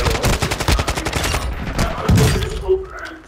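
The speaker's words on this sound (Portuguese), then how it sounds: "tem cara de longe atirando em mim, mano" Gunfire rattles in Call of Duty: Modern Warfare II as an enemy shoots from a distance, with rapid repeated bursts forming a sustained volley that slows and breaks into scattered shots.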